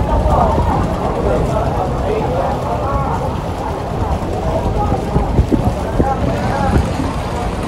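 Strong wind and rain buffet and roar against the microphone in a constant gusty rush near a breakwater, with a voice speaking faintly underneath.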